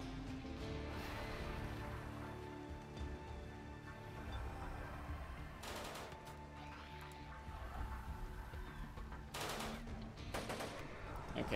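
Gunfire from colonists in the game RimWorld, repeated sharp shots and bursts over a constant low game hum and music, with a couple of louder volleys near the end.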